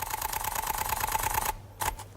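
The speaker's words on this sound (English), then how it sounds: "Yeah, you just keep holding that shutter down. So that's what 9 frames per second sounds like." Olympus OM-D E-M5 camera shutter firing in a rapid burst at 9 frames per second, a fast, even mechanical clatter held for about a second and a half, then a brief second burst after a short pause, close and clear.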